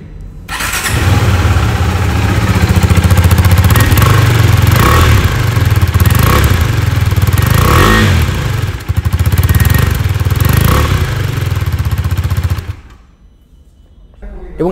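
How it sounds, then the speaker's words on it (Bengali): A 2023 motorcycle engine fires up and runs loud and steady close by for about twelve seconds with throttle blips, then cuts off abruptly into near silence. "এবার এই বাইকটার সাউন্ডটা"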